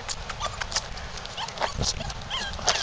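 Gizmo, a dog, moves about outdoors with soft irregular footfalls and thumps at close range, under occasional coaxing speech and background noise.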